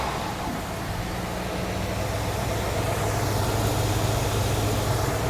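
Car engine running steadily just after an oil change, a loud, constant idling rumble close to the microphone with no talk over it.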